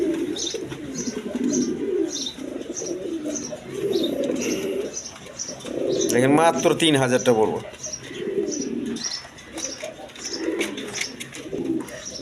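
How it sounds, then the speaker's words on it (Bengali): A running pair of milky-coloured Rajgolla pigeons cooing in soft, repeated low calls alongside thin chirps, mostly under a voice speaking close by. "মিলি কালারের রাজগোল্লা কবুতর একদম রানিং পেয়ার"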